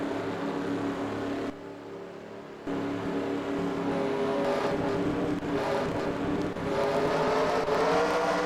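Race car engines at a stock car race, a steady layered roar from cars circling the track, moderately distant, briefly dropping before swelling back as cars approach and pass.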